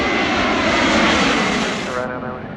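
A fixed-wing aircraft roars low overhead above the runway at Manchester Airport, a loud, sustained engine rush that swells and then eases as it passes, with a voice faintly present underneath.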